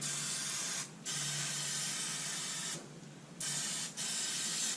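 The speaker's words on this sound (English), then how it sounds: "Just gonna spray these U-bolts down, brake line, give that stuff a fighting chance." Steady hissing bursts of aerosol spray on a GMC Sierra truck undercarriage, coating U-bolts, brake line and shackles, released in several long blasts with brief pauses between them.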